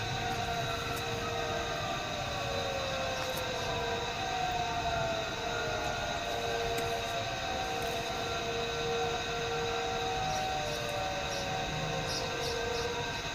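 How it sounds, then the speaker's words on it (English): Siren wailing across a wooded neighborhood, a steady, distant, sustained tone with slow rising and falling pitch sweeps over a continuous low rumble. "His neighborhood by the woods is filled with the sounds of sirens on his block, even though none can be seen"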